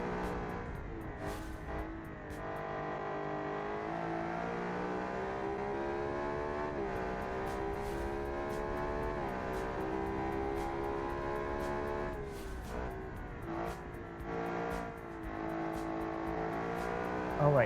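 A V12 car engine revs continuously while driving in a car-testing game, a sustained harmonic drone rising and falling with shifts and throttle changes, loud and alone throughout.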